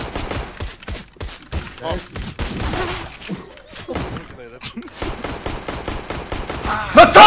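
Rapid bursts of gunfire in a video game, close and loud, firing in repeated volleys with short pauses while players talk and shout over the shots.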